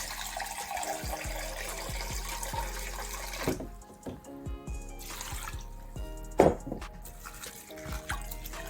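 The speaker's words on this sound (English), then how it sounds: "So I just pour it in and I'm gonna wash it." Poland Spring water poured over sea moss to wash it, a close, trickling pour with splashing and small drips, pausing briefly before a few louder splashes.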